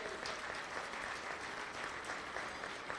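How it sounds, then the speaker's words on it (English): A crowd applauds the committee at a gathering, a steady dense wash of clapping held at even loudness throughout, somewhat distant and with no voices over it. "a big round of applause for the committee"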